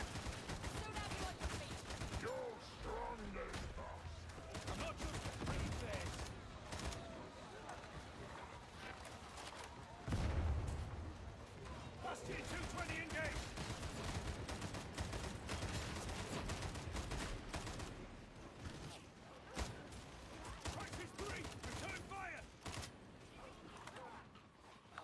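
Rapid bursts of automatic gunfire from heavy gunner enemies in Warhammer 40k Darktide, a dense, continuous clatter layered with game noise and occasional talk.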